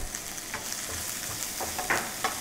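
Chopped onion sizzles steadily in a hot frying pan while a spoon scrapes and stirs it in short strokes, close and fairly quiet, with no talking, as part of preparing a red sauce pasta.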